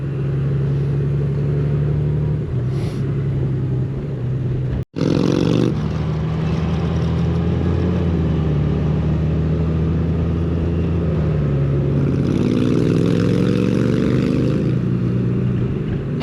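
A new Honda Goldwing 50th Anniversary touring motorcycle rides along at easy pace, its engine droning steadily with brief dips and rises in pitch as gears change, heard close from the rider's position with wind noise.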